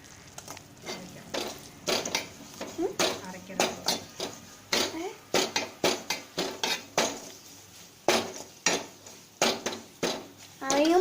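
Fish gravy with kudampuli tamarind stirred in a pot, a repeated clatter and scrape of a metal spoon against the vessel in a steady rhythm, close and clear, with a voice speaking under some of it.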